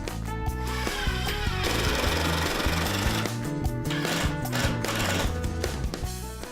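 A power drill pre-drills and drives screws into a wooden rack, its motor whine buzzing loudly and steadily with rhythmic changes in pitch as the bit works through the wood.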